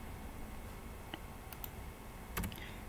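Keys on a computer keyboard are tapped while HTML code is typed, a few faint scattered clicks with a quick cluster near the end over a steady background hiss.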